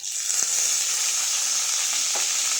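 Mustard seeds, urad dal and curry leaves tempering in hot oil for radish chutney, a steady bright sizzle with a few faint pops and light stirring taps, close and alone.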